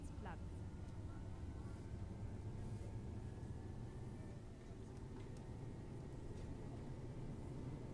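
A Solaris Urbino 12 Hybrid city bus in the OMSI 2 simulator drives on electric power alone, giving a steady low rumble and drone with a faint rising whine throughout.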